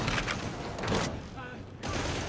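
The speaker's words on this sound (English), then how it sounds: "I like the headshot sound" A headshot sound effect in Warhammer 40k: Darktide lands as a few quick, muffled gunfire bursts with a brief thud, heard amid busy game noise and a voice talking.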